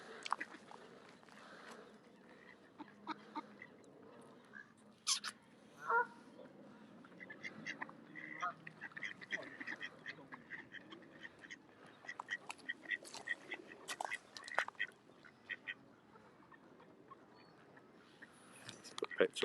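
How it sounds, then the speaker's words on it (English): Ducks by a lake waiting for food quack repeatedly in scattered, uneven bursts, some near and some farther off, while people talk at times in between. "the ducks are waiting for food"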